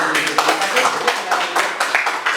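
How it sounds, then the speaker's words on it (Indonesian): A classroom group claps hands together during a lesson, a dense patter of overlapping claps with rhythmic bursts, fairly close and steady, with voices mixed in underneath. "Oke, ya, tepuk tangan dulu."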